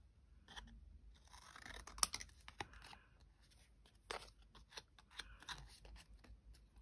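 Scissors snip through a paper supermarket label in close, quiet, irregular cuts, with faint rustling of paper between the snips.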